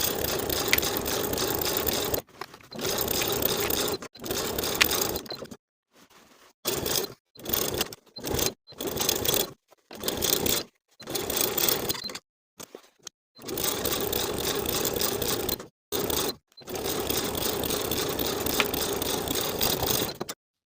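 A sewing machine stitches a 1/4 inch seam along a lined coat's front edges and neckline in repeated bursts, running steadily for a few seconds, pausing, then restarting, with several short stop-start stretches mid-way; close and clear.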